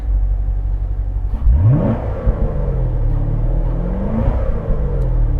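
A 2015 Chevrolet Corvette Stingray's engine revs up sharply with a deep sport-exhaust growl, then settles into a loud rumbling idle with a second smaller rev.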